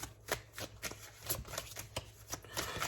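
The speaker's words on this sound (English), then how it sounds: "So I'm just going to keep shuffling until we get about 4 more cards" Playing cards riffle and snap in quick repeated bursts, close and crisp, with brief pauses between shuffles.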